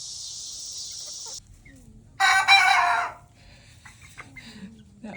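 Backyard chickens in an enlarged run: a loud, close rooster crow rises for about a second amid scattered softer clucks and a steady high insect-like hiss early on, with no talk.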